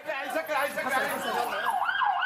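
An ambulance siren wails in Aleppo amid bombardment, loud and close with rising and falling tones, while voices and chaotic chatter overlap it throughout.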